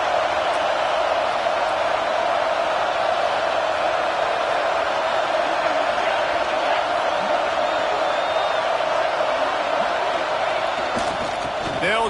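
A football video game stadium crowd roars in a steady, loud wall of cheering on a big third down, continuous throughout with faint whoops, while a commentator's voice runs underneath.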